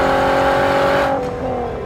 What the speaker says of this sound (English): The VR6 is, to this day, acoustically unmatched by just about every other 6-cylinder ever made